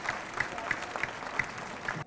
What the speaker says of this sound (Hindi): जोरदार तालियां बजाते रहे